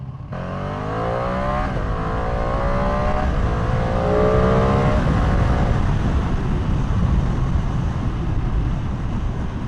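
Suzuki Gixxer motorcycle accelerating hard, its engine note climbing through rising gear sweeps over the first few seconds, then settling into a loud, steady roar with heavy wind rumble.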